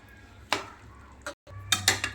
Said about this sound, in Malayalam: ഇങ്ങനെ ഒരു വലിയ കയ്യിൽ വെച്ചിട്ട് ഒന്ന് ഉടച്ചു കൊടുത്താൽ മതി